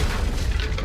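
A Confringo explosive spell blast in Hogwarts Legacy, a heavy booming burst with deep rumbling low end that fills the whole moment loudly, with no voices.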